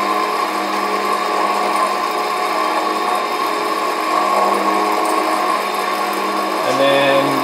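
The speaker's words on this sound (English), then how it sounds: "And then the cooling, you can hear the blowers ramping up, the fans." Cooling blowers and fans on a Hengli HSA1505 belt furnace run as a steady broadband whir with tonal hum, shifting pitch near the end as they ramp up; no talking.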